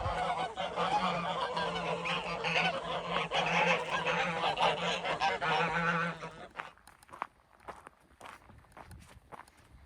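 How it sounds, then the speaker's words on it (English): A flock of geese honking loudly and continuously for several seconds, then fading out, leaving scattered footsteps on gravel. "That's a lot of geese."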